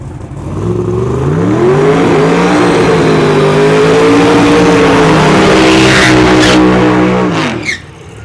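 Turbocharged drag race cars at an old-school drag-and-drive event roar loudly and steadily, the engine pitch climbing and holding as they rev and launch, then cutting off abruptly near the end.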